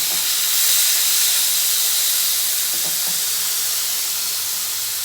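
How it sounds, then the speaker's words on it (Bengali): Diced papaya frying in hot ghee for a papaya laddu sweet gives a steady, close, broad hiss that holds without a break for the whole stretch, with no voices. "ঘিটা গরম হয়ে গেছে এবার এই যে ছেঁকে রাখা পেঁপেগুলো দিয়ে দিচ্ছি এবার পেঁপেগুলো একটু ভেজে নেব"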